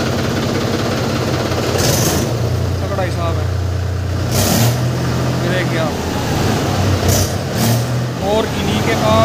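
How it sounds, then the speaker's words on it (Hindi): A Mahindra 265 DI tractor diesel engine in genuine condition idles steadily with a low, even chugging rumble, heard outdoors in a village near Saharanpur while someone talks over it. "जेन्युइन आवाज और जेन्युइन कंडीशन के साथ महिंद्रा 265 DI"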